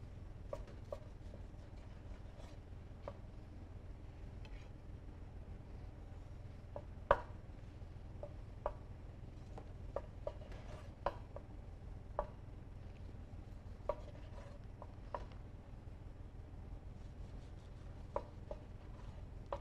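Knife cutting the ends off smoked meat on a board, sparse quiet taps and clicks scattered irregularly over a steady low background hum, close and faint.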